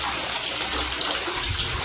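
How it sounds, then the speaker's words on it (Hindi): Water gushes steadily from an open household tap into a bucket, a continuous close, loud splashing flow with no break. "मैंने भाई नल खोल दिया था, थोड़ा सा और पानी की ज़रूरत है"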